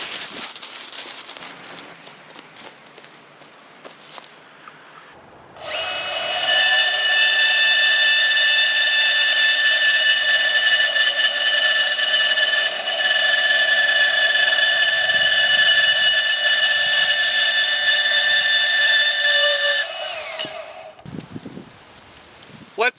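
A DEWALT DCS374 brushless 20V cordless deep cut band saw cuts through metal, giving a steady, loud whining buzz with bright tonal ringing that holds for about fourteen seconds before stopping, with quieter handling noise before and after.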